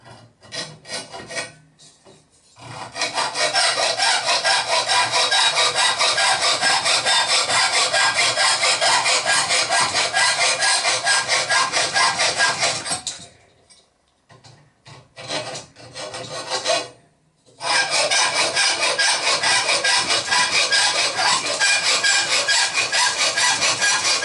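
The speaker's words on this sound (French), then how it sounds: "On va maintenant scier les deux joues avec une scie à métaux." Metal hacksaw strokes rasping steadily through wood for a toy pond sailboat part, in long continuous bursts, with two short pauses midway; close and loud, no talking.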